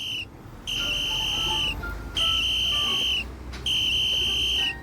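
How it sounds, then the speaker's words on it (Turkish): Three long, steady shrill whistle blasts in a prison escape video game, each lasting over a second with short gaps between, loud and close over a low rumbling background. "Bu sefer düdük çalacağım."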